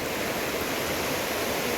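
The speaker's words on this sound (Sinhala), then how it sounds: "ඉතින් වතුර යනවා අපි බලන් ඉන්න" Floodwater rushing under a village bridge after a storm, a loud, unbroken roar of flowing water heard alone with no voices over it.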